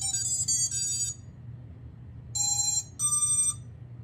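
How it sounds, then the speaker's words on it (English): Electronic startup beeps from a T-Motor Fettec Pacer G4 drone flight controller with ESC: a quick series of high, pure tones, a pause, then two more short melodic beep groups, clean and close. "you can hear the beeps."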